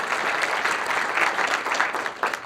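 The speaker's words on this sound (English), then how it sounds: "Let's give Richard a round of applause." An audience at the Eastland County judge candidates debate claps for the moderator, a close, dense patter of applause that stays steady before tapering slightly.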